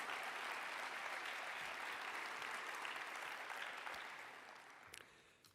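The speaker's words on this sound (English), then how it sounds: "one more round of applause for our outstanding alumni" Audience applause at a university honors and awards ceremony, a sustained round of clapping from a large crowd that fades out toward the end.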